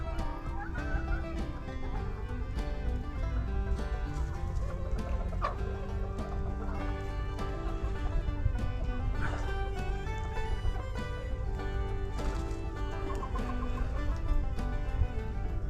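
Chickens cluck continuously in a dense, busy mix in a henhouse in winter, with steady background noise and scattered sharper calls throughout.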